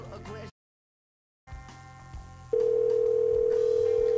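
After soft clicks and a short silence, a steady telephone line tone starts and holds unbroken to the end.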